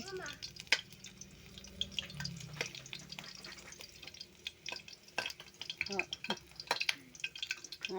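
Garlic frying in a pan over a wood fire, with soft crackling sizzle, clinking and stirring scrapes throughout, occasional sharp pops, and a voice talking nearby.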